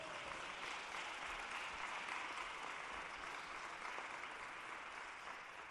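An audience applauds athletics hall of fame inductees at a college ceremony, a continuous wash of clapping heard faint and distant throughout.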